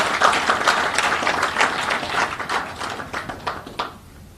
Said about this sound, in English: they deserve a big round of applause for this